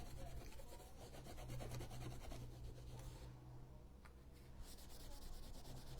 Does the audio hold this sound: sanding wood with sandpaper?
yes